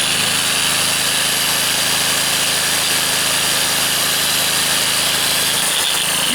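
A GENERGY power generator engine runs continuously at a steady, loud idle with a constant mechanical hum and rattle, shifting slightly near the end, with no voices.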